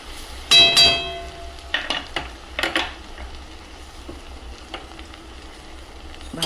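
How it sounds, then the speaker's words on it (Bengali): Garlic fries in butter and the leftover meat-frying oil for garlic chicken, a quiet sizzle under scattered clinks, taps and scrapes of a utensil against the pan. "ভালো করে রসুনগুলো লাল লাল করে ভেজে নেব।"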